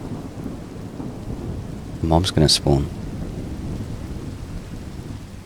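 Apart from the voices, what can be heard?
thunder and rain in a storm, from a video game with an immersive thunder mod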